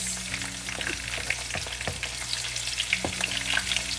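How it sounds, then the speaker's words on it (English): Dried chili and spring onion stir-frying for Kung Pao chicken, a steady close sizzle with scattered spatula knocks and scrapes against the wok, no voices. "dried chili with our pale spring onion. Add in together and give it another mix."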